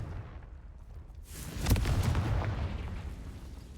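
Confringo fire spell explosion in Hogwarts Legacy, a single booming burst after a short quiet lead-in, followed by a crackling, rumbling decay.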